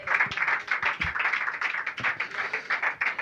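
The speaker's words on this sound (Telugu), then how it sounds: "చప్పట్లు కొడదామా?" A church congregation claps together in a steady, rhythmic beat, many hands close and loud, carrying on without pause and with no talk over it.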